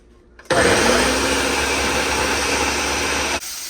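A kitchen mixer grinder whirs through spice paste, switching on abruptly with a loud, steady motor roar and rattle that holds level for about three seconds before stopping.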